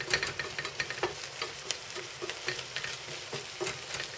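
An egg fries in a pan, producing a quiet, continuous sizzle broken by small rhythmic scraping or stirring ticks, heard close up without any talk.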